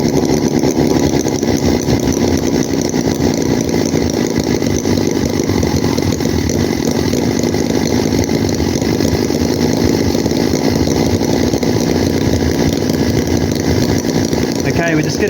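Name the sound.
Chinese vintage Holt H75 4-cylinder model engine running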